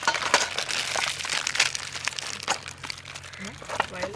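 Parle-G biscuit packets are torn open and emptied, giving continuous close crinkling and rustling of plastic wrappers with crunchy bursts, along with a voice.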